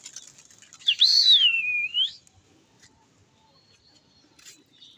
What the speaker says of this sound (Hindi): आपको उसकी सीटियों की भी आवाज़ें आ रही होंगी